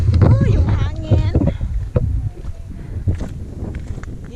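Wind buffeting a microphone outdoors at Nishijima Station, a continuous low rumble gusting throughout, with a person talking over it.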